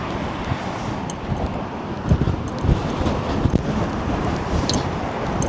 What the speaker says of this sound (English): It's a little windy today, so.